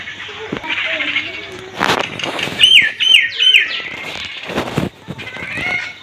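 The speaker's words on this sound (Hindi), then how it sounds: "आप चिड़िया के चहकने की आवाज़ सुन लें।" Short, quick bird chirps in a rapid series sound out over background noise and a talking voice, moderately close, on a morning in a Kashmiri village.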